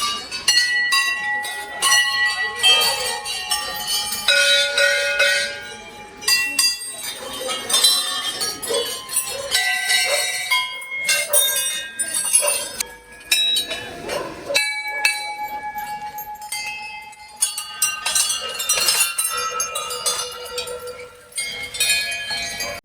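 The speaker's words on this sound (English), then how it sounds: "The sound of bells ringing and the rhythmic chanting creates a strong spiritual feeling" Temple bells ring repeatedly at Dakshinkali Temple in Nepal, a dense, uneven clanging of many metal bells close by, with overlapping strikes and ringing tones continuing throughout.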